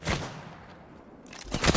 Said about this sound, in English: Getting shot at me here